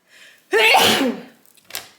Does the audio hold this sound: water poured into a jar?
no